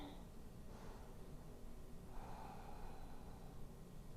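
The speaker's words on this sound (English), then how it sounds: "Taking really deep breaths here." Deep, slow breaths during a seated yoga side stretch, two soft, faint breath swells over a low, steady background hush.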